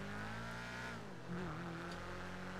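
A car engine revs during a race in a roleplay video game, a faint, steady droning note that dips and then climbs again, with no talk over it.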